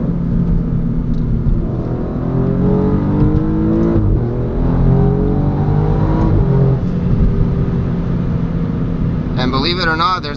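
Alfa Romeo Giulia Quadrifoglio engine revving up and down with quick automatic gear shifts, rising and falling engine tones heard from inside the cabin, loud and continuous, with a brief higher whine near the end.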